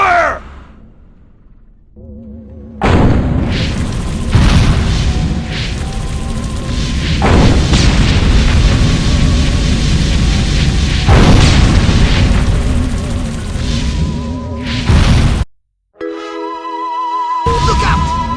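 Heavy gunfire and explosions roar almost without pause in Destroy All Humans! (2005), a loud, dense battle din of blasts and rumbling booms, broken by a brief drop into near silence before the noise returns.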